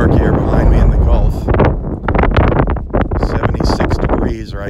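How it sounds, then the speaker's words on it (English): Strong wind, gusting up to 35 miles an hour on a beach in North Naples, Florida, roars and buffets the microphone throughout, while a person talks over the gusty noise. "That wind is really blowing again today."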